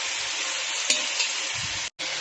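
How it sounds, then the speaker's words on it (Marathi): Chicken pieces stir-fry in a pot over a medium gas flame, giving a continuous close sizzle with a few soft scrapes as they are turned. "गॅस मी मिडियम ठेवला आहे आणि चिकन परतवून घेते."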